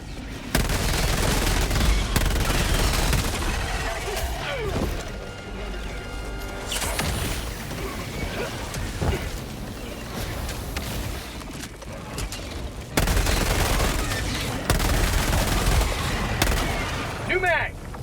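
MP-98 Knight submachine gun firing in Helldivers 2, loud sustained automatic bursts with explosions and crashes mixed in, brief gaps between bursts, and some in-game voices.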